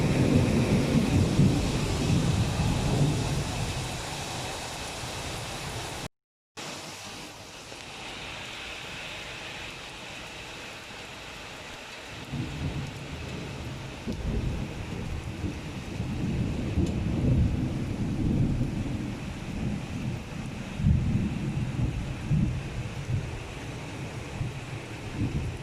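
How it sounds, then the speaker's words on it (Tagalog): Heavy night rain pours down in Kuwait during a thunderstorm, a dense continuous roar with rumbling thunder and gusty wind, briefly cut off and then swelling again, with no voices. "Grabe ang lakas ng ulan."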